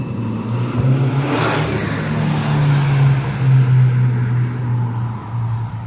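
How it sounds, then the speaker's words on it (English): Modified cars speed along a street in Hamtramck, Michigan. A low engine drone builds and a car sweeps past near the start, followed by a steady rumble of traffic that rises and falls. "You see a lot of built cars coming through here. They like to fly through here like idiots."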